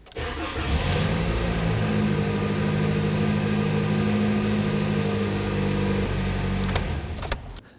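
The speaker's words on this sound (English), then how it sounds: "And now we could start our engine." A 2020s Toyota Corolla engine starts after a fuel pump module replacement. It cranks briefly, catches, and settles into a steady, close idle rumble for several seconds before a couple of clicks near the end.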